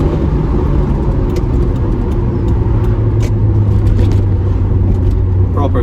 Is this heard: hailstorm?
no